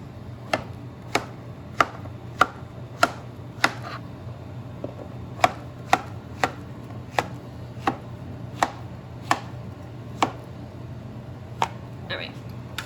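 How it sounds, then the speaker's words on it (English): Sharp, evenly spaced knife taps as bananas are sliced on a cutting board, about fifteen crisp chops over a faint background hum. "we are going to slice our bananas"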